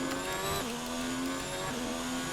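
A Formula 1 car's engine in a racing video game at the Australian circuit whines loudly and continuously, dropping in pitch in two distinct steps as it is hammered through downshifts.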